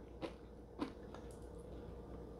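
Crunchy cereal with almonds eaten with Greek yogurt, chewed close to the mic, with two distinct crunching bites and softer chewing between them, fairly quiet and with no talking.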